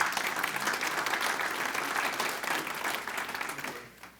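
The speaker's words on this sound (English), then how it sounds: "Give them a big hand clap for bringing their team." Sustained applause from a conference audience at a business performance talk, dense and steady clapping throughout before tapering off at the end, with no voices over it.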